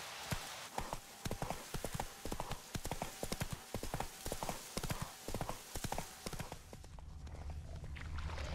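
Horse hooves clip-clop in a rapid galloping rhythm, loud and close, with a brief whinny, then the hoofbeats stop and a steady low rumble of ambience remains, all from The Witcher 3 video game.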